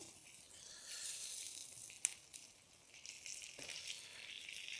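Green masala fish frying in a pan with curry leaves gives a faint, steady sizzling hiss throughout, broken by a couple of sharp crackles near the middle.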